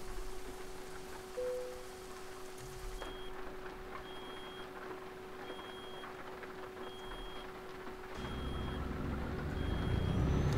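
Rain falls steadily on a truck in a driving simulation game, with the engine's low hum underneath, brief electronic beeps, and the downpour growing louder toward the end.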